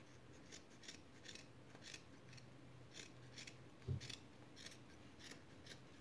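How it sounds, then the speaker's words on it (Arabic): Scissors snipping through an old cloth bib, a soft series of regular crisp cuts, close and quiet, with one duller thunk partway through and no talk. "ناخذ المقص نتاعنا"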